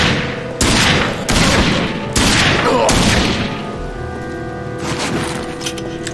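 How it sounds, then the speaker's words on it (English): Snub-nosed, revolver-like pistol firing in a shooter video game: several loud, close shots in irregular succession, each with a short booming tail, followed by quieter background sound. "Not a terribly strong pistol,"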